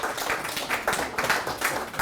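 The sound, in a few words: audience applause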